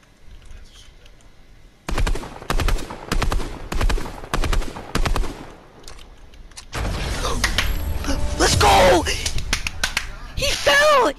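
Rapid bursts of gunfire in Fortnite crackle close and loud in uneven clusters, then give way to a dense stretch of explosive impacts, mechanical clatter and chaotic game noise.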